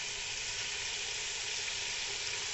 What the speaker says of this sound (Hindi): दोनों साइडों से कोफ्ते माशाल्लाह से फ्राई हो गए हैं